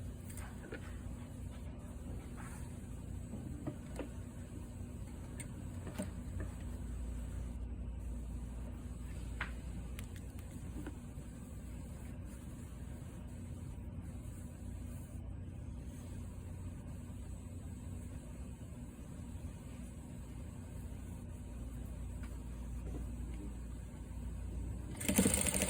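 A sewing machine edge-stitches a folded cuff in place, a low steady motor hum running continuously for the whole stretch, soft and even with no voices.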